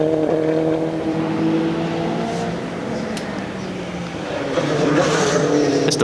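A Praga track car races fast at a Supercar Shootout circuit event, its engine note roaring steadily and swelling loud as it passes near, with harmonic whine throughout.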